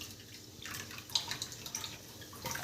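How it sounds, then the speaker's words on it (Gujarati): Water draining from washed poha through a perforated strainer, soft trickling and scattered drips with a few louder splashes, faint and close, no talk. "હવે આપણે આ રીતે પાણી નિતારી દઈશું"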